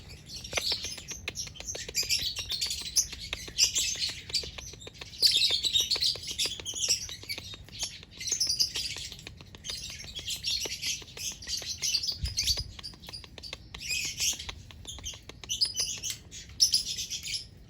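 Lovebirds, creamino-coloured, chirping and tweeting in a steady stream of bright, rapid calls against a played mating-call sound, moderately close.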